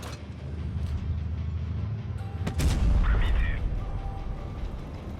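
In the World of Tanks Blitz video game, a tank cannon shot lands a penetrating hit on an enemy tank, one loud booming impact over a steady rumbling engine background.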